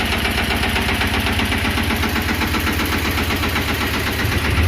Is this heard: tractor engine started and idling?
yes